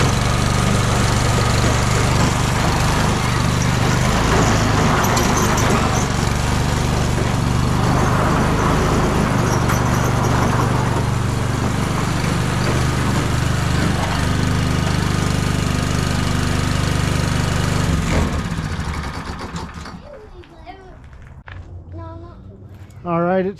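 A homemade track sled's small engine runs loudly and steadily close by for about twenty seconds, then cuts out abruptly, leaving a quiet tail.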